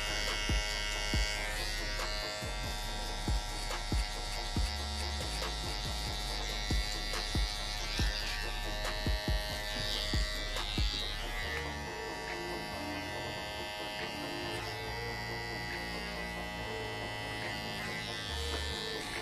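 A hair trimmer buzzes steadily while trimming along the bottom of the temple line during a women's faux hawk haircut, with repeated short ticks from the blade against the hair.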